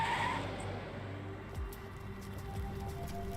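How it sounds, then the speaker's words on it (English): Speeding cab braking hard and skidding on wet, white ground in the Arknights video game: a low engine rumble with a short tire squeal and skid, moderately loud, no voices. "The speeding cab suddenly brakes when it hears the fire, leaving clear skid marks on the wet, still white ground"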